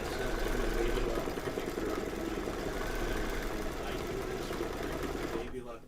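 A Baby Lock embroidery sewing machine runs steadily, stitching a dragon egg quilt block with a fast, even mechanical whir, while people talk over it; the motor cuts off near the end.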